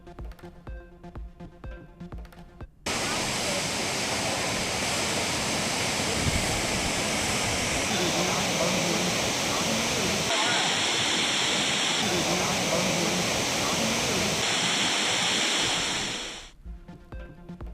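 Courtallam Main Falls and Five Falls in Tenkasi roar with a steady, dense rush of falling water during drizzling rain, holding a constant loud wash before a spoken news report resumes.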